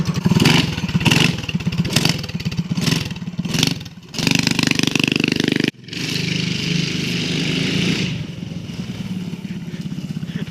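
Close and loud, a Predator 212cc engine with a homemade exhaust header revs hard in repeated bursts, its raspy, clattering exhaust dipping briefly between throttle blips before settling into a sustained high-rpm drone.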